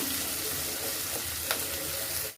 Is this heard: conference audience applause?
no